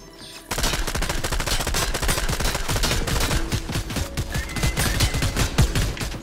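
Rapid automatic turret gunfire from the Fortnite video game, a dense, loud, continuous stream of shots starting abruptly after a brief quiet moment and rattling on steadily with no talk.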